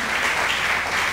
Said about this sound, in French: Acclamons très fort le nom.